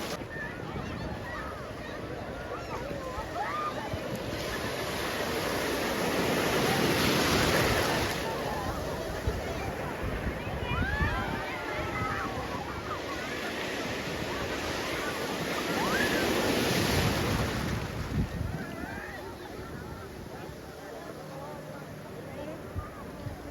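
Sea waves at Malpe Beach in Udupi surge and break in a steady roar, swelling twice to louder crashes, with wind buffeting the microphone and someone talking faintly over the surf.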